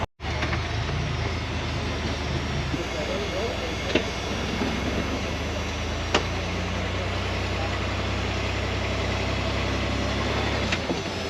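An off-road vehicle's engine drones steadily as it tries to climb an undercut rock ledge on a wet canyon trail, with a low sustained rumble and a few sharp knocks.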